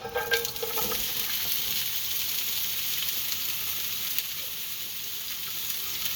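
Ingredients stir-fried in a very hot oiled pan, a loud, steady, close sizzle with a few brief scrapes of stirring near the start, then an even hiss to the end.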